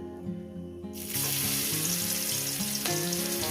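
Oil sizzles in a pan while small pieces fry for a fish and greens bharta, the hiss swelling sharply after the first second and holding steady and close.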